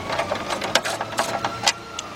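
A tool works the last bolt free on a 2002–2005 BMW 745i during an AC high-pressure line replacement, giving fast, rhythmic mechanical clicking with a few sharper knocks, close by and without talk.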